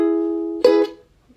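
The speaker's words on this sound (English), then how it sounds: "I'm hitting the 3rd and the 2nd strings using my finger as a plectrum" Ukulele strings, the third and second, are struck with a finger used like a pick: a sustained note rings, then a short bright chordal strike that fades out within a quarter second, near and clear.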